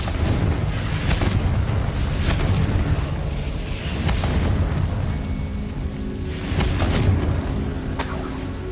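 A Confringo spell explodes in Hogwarts Legacy: a dense, rumbling boom with a crackling, debris-like tail, loud and continuous, with a few sharper bursts inside it.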